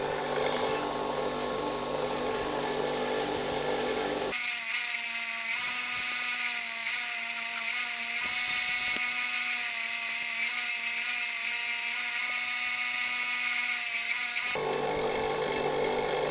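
A bench grinder whirs steadily as a metal lathe turning and facing tool is ground by hand, with a shrill, rasping contact tone rising whenever the steel is pressed to the wheel.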